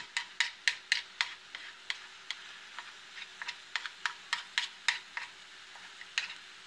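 Cauliflower fried rice is scraped and stirred in a favorite pan, giving a steady run of crisp, evenly spaced scraping strokes, close and moderately loud, with a soft sizzle underneath and no talking.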